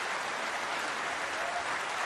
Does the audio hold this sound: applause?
yes